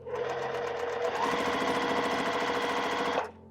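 A sewing machine stitches quilt pieces together with a scant quarter-inch seam, a steady close whirring run of rapid needle strokes that holds for about three seconds, then stops abruptly.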